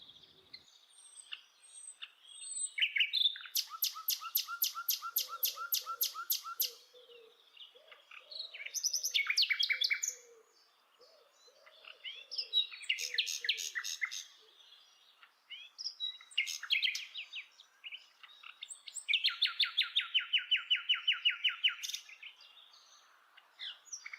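A nightingale sings alone in clear, varied phrases: rapid repeated trills, whistles and churring notes separated by short pauses.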